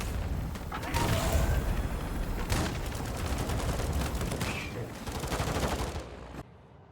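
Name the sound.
gunfire in Call of Duty DMZ video game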